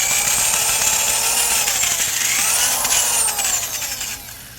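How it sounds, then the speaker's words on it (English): A power drill whirs continuously at close range while working on a Dodge Dart rear wheel bearing, its high-pitched motor tone wavering up and down before trailing off near the end. "we'll run the drill over this a little bit as well"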